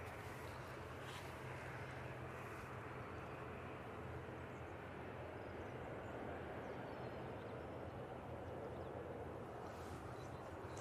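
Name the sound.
Ryanair plane on the runway at Manchester Airport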